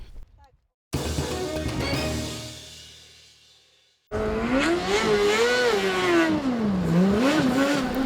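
A student-built race car of the PUT Motorsport team from Poznań University of Technology revs hard, its engine pitch sweeping up and down loudly near by, after an earlier stretch of talk.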